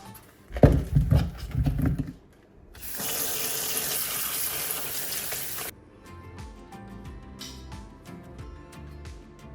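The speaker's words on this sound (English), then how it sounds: "I'm gonna wash these strawberries." Strawberries are rinsed under a running kitchen tap, a steady broadband rush of water lasting a few seconds between fainter clattering handling sounds before and after.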